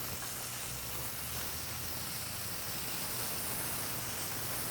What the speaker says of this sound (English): We're going to put the bear in the frying pan and brown it up.